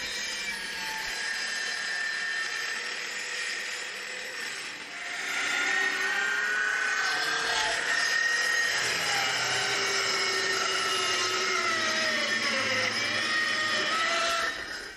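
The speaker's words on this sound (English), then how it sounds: "I'm going to go ahead and use my trim saw" A trim saw cuts a notch in a wooden cabinet back panel, a steady whining buzz running continuously with a brief dip in the middle before resuming loud and close.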